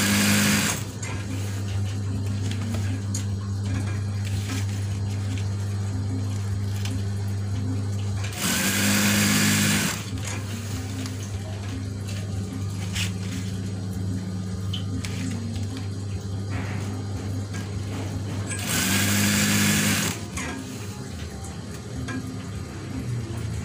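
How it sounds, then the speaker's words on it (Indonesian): A sewing machine stitches eyelet curtain fabric in a steady, continuous whir, up close and alone, with two short louder bursts partway through. "Kita jahit."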